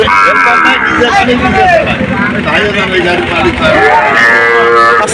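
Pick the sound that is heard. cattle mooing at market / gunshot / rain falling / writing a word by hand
cattle mooing at market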